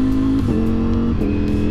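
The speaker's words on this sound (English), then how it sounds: "The exhaust note is going to be something I'll miss, because I'm not getting that exhaust with V4R anytime soon." A Ducati V4 naked motorcycle on its stock exhaust gives a steady, loud, close engine drone with a deep throaty tone and slight revving shifts.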